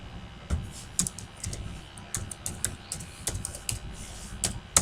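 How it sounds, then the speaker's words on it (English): Typing on a computer keyboard while building an HTML list, quick irregular key clicks close by, coming in short bursts with small pauses and very little else in the background. "Now here I am typing something"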